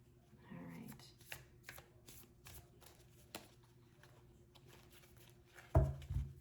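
A deck of tarot cards being shuffled by hand in soft, irregular riffles and taps, quiet and close, with a louder burst of handling near the end.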